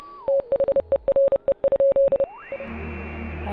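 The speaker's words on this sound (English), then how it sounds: "More Morse code." Morse code beeps in the video game Oxenfree sound as a rapid run of short and longer steady electronic tones in an irregular rhythm, then give way to a low murky hum.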